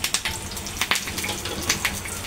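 Curry leaves and mustard seeds crackle and sizzle in hot oil for a tadka, a dense, continuous frying hiss with small popping spatters throughout, close and steady.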